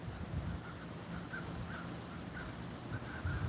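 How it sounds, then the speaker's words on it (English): Many crows caw from a tree overhead, repeated scattered calls at a moderate distance over a low rumbling background, with no one speaking. "There's hundreds of crows up there."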